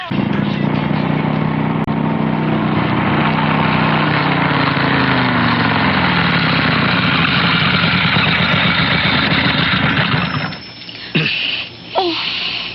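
A motorcycle engine runs loudly and steadily for about ten seconds, then cuts off abruptly, leaving a quieter stretch with a few brief noises.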